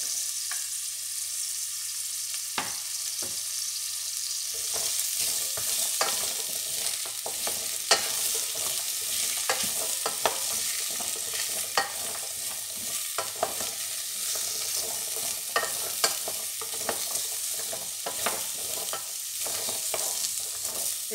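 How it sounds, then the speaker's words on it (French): Pumpkin pieces sizzle steadily in hot oil with garlic, with frequent scraping and clacking as the pan is stirred throughout, close-up and continuous, with no voices. "je viens les faire rissoler avec mon ail et mon huile"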